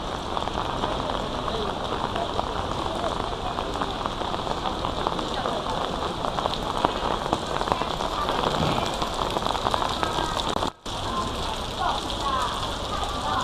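Steady, dense rain patters on surfaces all around an old Chinese temple in Singapore, a constant hiss of droplets with faint voices underneath.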